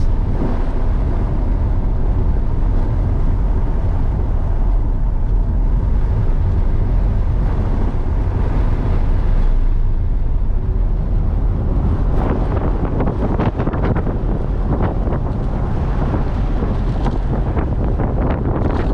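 Wind roars into the cabin of a 2021 Chevrolet Corvette C8 driving with the windows down, a loud constant rushing buffet under the engine and road noise, with no talking.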